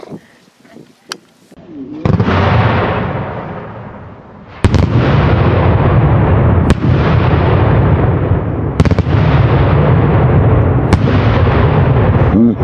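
Daytime New Year's Eve fireworks at the turn to 2022: a dense, roaring barrage of loud bangs and crackling bursts layered on top of each other, with sharp cracks standing out. A few small pops come first, and voices are faintly audible at times.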